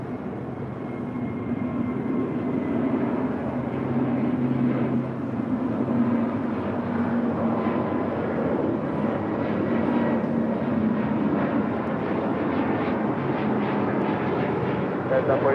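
An airliner rumbles at a busy airport as a Boeing Dreamliner departs from the south side for Tokyo Narita, a low, continuous engine roar held at moderate distance while someone talks over it.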